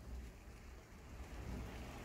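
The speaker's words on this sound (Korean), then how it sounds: "계속 비가 오니까" Steady rain falls outdoors in a garden with potted balsam flowers, a faint continuous hiss with no voices.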